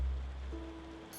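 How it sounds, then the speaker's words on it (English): Steady rain falls at night in the tavern-management game Tavern Keeper, a continuous broadband hiss of water that carries on alone. A soft sustained tone joins it partway through. "Seems we're in for a rainy night."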